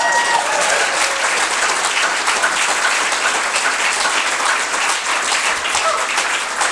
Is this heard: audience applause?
yes